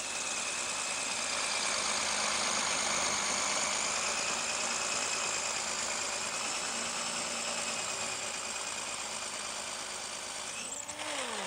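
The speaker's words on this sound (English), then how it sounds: "Now, I've got my 5-point power tool 18-volt cordless drill. So this is a bit of red brick." An 18-volt cordless drill bores into red brick, a loud continuous whining drone with steady motor tone that winds down sharply at the very end, no voices.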